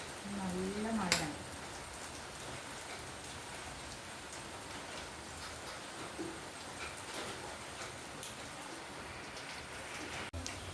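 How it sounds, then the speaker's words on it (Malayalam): Heavy rain falls steadily as a soft, even wash. A brief voice-like sound occurs near the start, and there are a few faint knocks. The rain is fairly quiet overall. "നല്ല മഴയാണ്."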